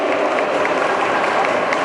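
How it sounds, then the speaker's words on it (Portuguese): Audience applause at a pet fair dog runway show, a dense, steady wash of many hands clapping close by with crowd noise mixed in. "Palmas."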